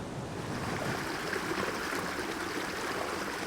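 A glacial Alpine stream rushes steadily, a dense broadband wash of flowing water, close and constant with no voices.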